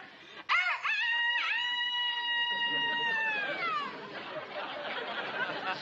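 A man imitates a rooster crowing in a bank, one long loud drawn-out vocal crow with a rising start and falling end, followed by background murmur.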